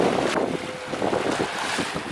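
Wind blows steadily outdoors on a hot day near El Nido and buffets the microphone with loud, gusty rumbling, with possible distant water or boat noise underneath.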